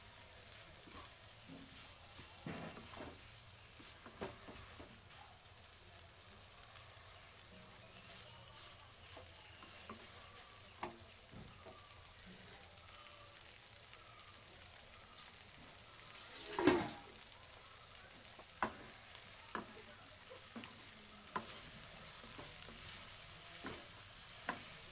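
Soybean curry with prawns sizzles softly in a pan while being stirred, a low continuous frying hiss with occasional scraping taps and one sharper clatter partway through, no voices.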